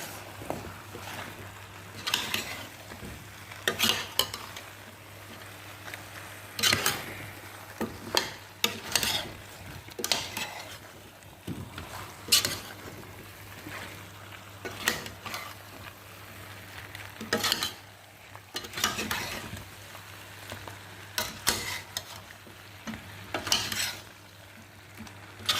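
Chicken and eggplant sizzle in a frying pan while a utensil stirs and scrapes in repeated bursts, close and fairly loud over a steady frying hiss, with no talking.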